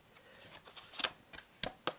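An older tarot card deck being shuffled by hand: a quick run of soft papery riffles and slaps, with a few sharper bursts toward the end, close and fairly quiet.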